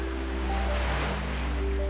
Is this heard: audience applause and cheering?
no